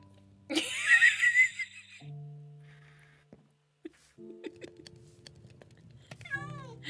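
A cat in a video game gives a short, high meow near the start, followed by game sounds and a person's voice and laughter.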